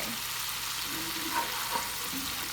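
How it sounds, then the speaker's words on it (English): Stock simmering in a pan with Cajun shrimp sauce, a steady close bubbling sizzle with faint ticks, no talk. "We're gonna let that simmer for just a minute."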